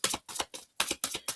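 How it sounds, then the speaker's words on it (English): A tarot card deck is shuffled by hand in quick bursts of crisp riffling clatter, several close, separate flurries with brief pauses between them. "I really prefer to finish out my shuffle and always take a look at what's at the bottom of the deck."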